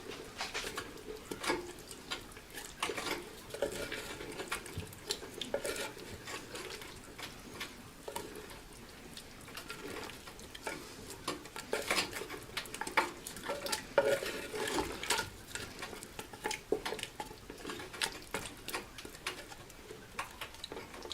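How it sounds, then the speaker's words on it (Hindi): Red chili paste is stirred into meat for Chinioti kunna gosht in a clay pot, with repeated scraping and a low sizzle continuing throughout and pigeons cooing faintly in the background. "और अब हम इसको बहुत अच्छी तरीके से मिक्स करेंगे"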